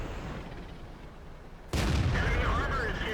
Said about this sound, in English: Put a shot into the T-25-2 because it's the more dangerous tank.